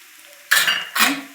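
A sizzling Gujarati tempering for leelavni muthia dhokla is stirred in a pan, two sharp, close bursts of scraping and hiss rising out of near silence.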